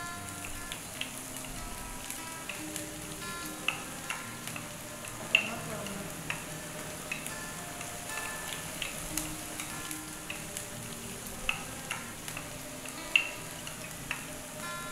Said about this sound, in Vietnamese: chúng ta cho thịt ba rọi vào xào lên